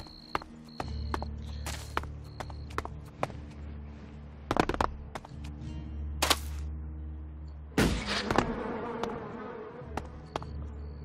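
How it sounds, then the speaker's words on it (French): Flies in the video game Elex buzz in a steady, close drone, with intermittent higher whines. Sharp clicks and footstep-like knocks sound in between. "on entend des mouches."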